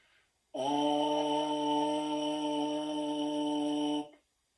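A single steady, low buzzing tone on a trombone mouthpiece with a relaxed embouchure, held for about three and a half seconds, nasal and reedy, then stopping abruptly.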